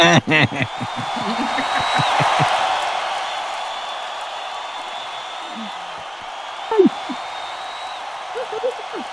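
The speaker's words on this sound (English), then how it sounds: "crowd goes wild" A crowd at a giant snail race applauds and cheers with a broad burst that slowly fades. A voice speaks at the start, and scattered shouts and whoops follow later.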